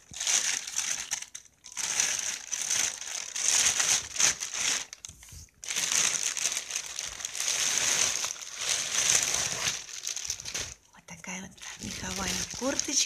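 A plastic bag holding a winter women's coat with natural fur crinkles and rustles in bursts close to the microphone, the crumpling broken by short pauses, with someone talking quietly in between.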